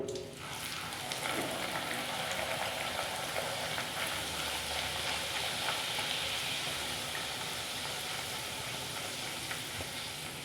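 Pea kachoris deep-fry in hot oil in a pan, giving a dense, steady bubbling sizzle that holds throughout, close and continuous with no speech.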